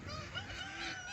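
A free-ranging farm bird gives a short, goose-like honking call up close, with wavering, nasal tones that bend up and down over about a second, alone and fairly quiet.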